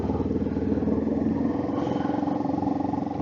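Kawasaki Ninja 650 motorcycle cruising on a road between Malakkapara and Athirapally in the Western Ghats, steady throbbing engine hum with a close, rhythmic pulse and wind rush, no talking.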